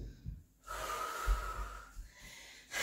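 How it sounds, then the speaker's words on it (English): Heavy, forceful breathing from a person lifting a heavy set of weights in bicep curls during a barre workout, with strong exhales and snort-like breaths close to the mic. "Yes, we are breathing."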